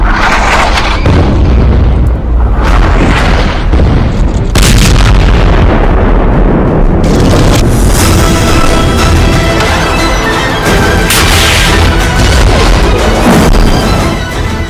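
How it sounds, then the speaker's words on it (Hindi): Anti-tank missile fire at the Israel-Lebanon border, heard as loud, dense booming blasts and crashing explosions that roll on without a break, harsh and saturated, with no voices. "इजराइल लेबनान बॉर्डर पर दागी गई एंटी टैंक मिसाइल। पहला फायर, टारगेट खत्म।"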